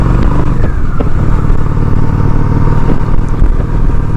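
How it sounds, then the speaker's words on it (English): Honda Shadow 750 motorcycle engine running steadily while riding, a loud, continuous low rumble with wind noise and no gaps, close and alone without talk. "watch this Honda Shadow 750 in action"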